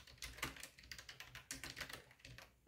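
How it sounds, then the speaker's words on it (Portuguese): Quick, light keystrokes on a computer keyboard tap along in an irregular run, close and quiet, with no voices. "vou até digitar algumas outras coisas"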